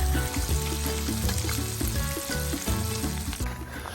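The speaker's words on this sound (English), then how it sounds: "We're going to make some bacon and eggs out here on the griddle" Bacon and eggs frying on an outdoor griddle at a campsite give a loud, dense, continuous sizzle with crackling pops, close and steady throughout.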